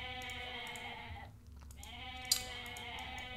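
Goats bleating in the strategy game Age of Mythology: The Titans, a steady layered bleat over game ambience with a brief gap and a single sharp click near the end.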